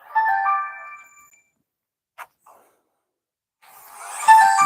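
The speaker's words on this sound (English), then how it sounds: "There's your phone call. Phone's ringing." A phone ringing with a bright electronic melodic tone, loud and close at first, then fading out; after a pause of near silence, other noise and rustling rise toward the end.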